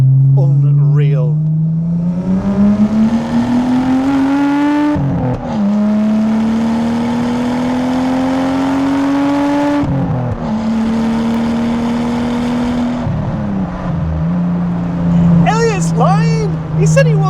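A Nissan Skyline R34 GT-T engine pulls hard from inside the car, its tone climbing steadily through each gear, with brief dips at the shifts and someone talking over the drone.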